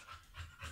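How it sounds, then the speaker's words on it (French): A dog panting close by, quick rhythmic breaths in and out repeating about three times in under a second, soft but clear and alone. "vous avez remarqué qu'il y a un chien"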